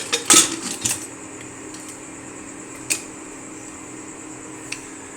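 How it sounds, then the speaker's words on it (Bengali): A pressure cooker lid being closed and locked, two close metallic clanks followed by a couple of fainter clicks over a steady hum of a fan, no talking. "এবার আমি প্রেসারের ঢাকনাটা আটকে দেবো।"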